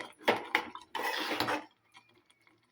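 A spoon stirs mango jam with cardamom powder and poppy seeds in a pot, giving brief scraping and clinking bursts for about a second and a half before falling quiet.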